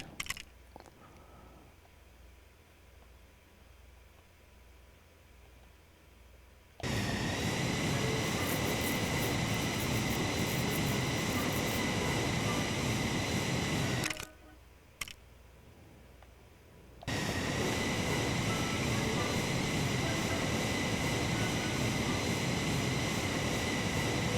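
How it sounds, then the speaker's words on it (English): A plane roars during takeoff in the Lego Worlds video game, a loud steady engine drone that starts after a quiet opening, drops out briefly, then returns at full strength. "Realistic plane takeoff physics."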